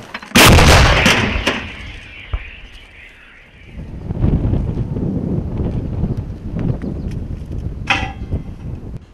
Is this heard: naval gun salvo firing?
yes